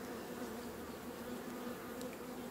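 Honeybees swarm back over their queen, a dense steady buzz of many insects filling the air at moderate level, with no talking.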